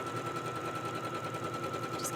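Sewing machine stitching a bodice seam, a steady, rapid rhythmic whir at close range that stays even throughout, with no talking.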